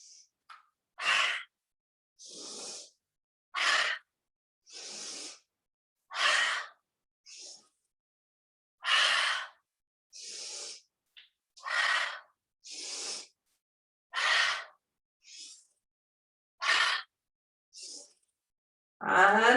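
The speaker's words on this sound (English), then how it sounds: "Inhale through the nose and exhaling through the mouth" Rhythmic yoga breathing during a kundalini flow class, with a steady sequence of about a dozen breathy inhales and exhales, each a soft airy rush separated by brief silences, close and unaccompanied.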